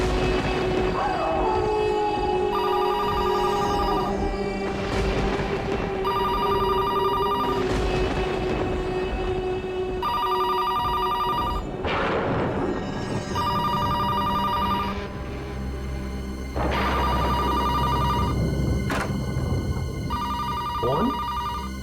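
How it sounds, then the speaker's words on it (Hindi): A telephone bell rings at night in repeated bursts with regular pauses, sounding loud and close over a dramatic musical score. "दिन में तो कभी फोन की घंटी बजती नहीं।"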